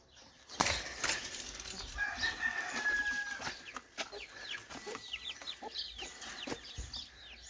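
Hens cluck and chatter in a coop, with a sudden burst of flapping wings near the start and a rooster crowing faintly in the background.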